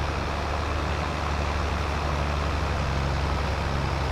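A tractor engine in Farming Simulator 22 runs alone at a steady low rumble, with a constant idling hum and no talk.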